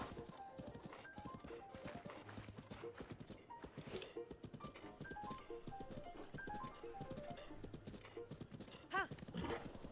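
Horse hooves clip-clop in a steady trotting rhythm in The Legend of Zelda: Breath of the Wild, with a brief whinny, over game music and a voice talking.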